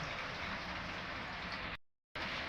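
Rain falls steadily as an even, dense hiss that cuts out into silence for a moment before returning.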